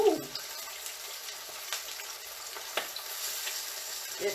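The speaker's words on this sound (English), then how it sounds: "So I floured them. Now, I'm not cooking them. I'm browning them." Floured, already-cooked ribs browning in a hot frying pan give a steady, soft sizzle and crackle at moderate volume, with a few brief clatters on top.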